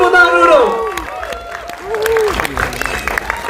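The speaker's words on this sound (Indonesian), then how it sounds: "Bang tepuk tangan dulu dong." Audience at a film press conference clapping in scattered, uneven bursts beneath loud, lively talk from people nearby, the clapping fairly close but partly masked by the voices.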